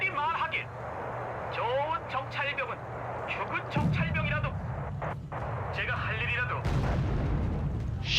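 Artillery booms thud in the Wargame: Red Dragon strategy game, with a couple of deep low blasts under a man's near, continuous talking.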